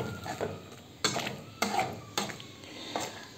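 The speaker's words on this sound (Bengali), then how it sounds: "এবার এই দইটাকে ভালো করে একসাথে মিক্স করব।" Yogurt being stirred into hot cooking oil in a pan for a Bengali home-cooked dish, with a spoon scraping the pan in several distinct strokes and a faint sizzle underneath, close and moderately loud.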